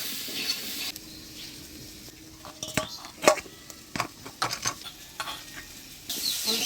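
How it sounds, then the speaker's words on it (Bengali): Boiled potatoes fry in hot oil with turmeric and salt, tempered with dried red chillies and cumin, for a Bengali fish curry: a steady sizzle with intermittent scraping and clinks of a spatula stirring in the pan. "হলুদ লবণ দিয়ে আলুটা ভাজা ভাজা করে নিলাম।"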